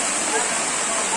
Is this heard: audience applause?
no